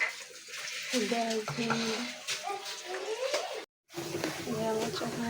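Dried fish (shutki) frying in hot oil, a busy crackling sizzle with stirring under a voice talking throughout, briefly cut to silence before resuming.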